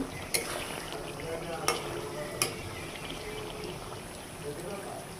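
Chicken for biryani is stir-fried in a pan: a soft continuous sizzle with three sharp scrapes of a spoon against the metal, close and quiet.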